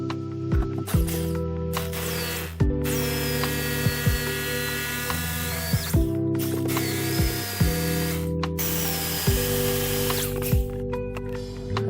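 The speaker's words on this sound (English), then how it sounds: "let's start the drilling process" A power drill whirs in steady bursts while drilling a hole for an outdoor water pipe, stopping and restarting several times with a pitch that shifts as the bit bites, loud and close.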